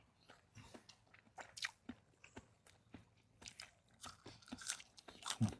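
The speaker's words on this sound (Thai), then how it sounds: "กินกระเทียมพี่น้องอืผมลอง" Raw garlic cloves are bitten and chewed up close, giving quiet, irregular crunches and moist chewing with a few sharper snaps.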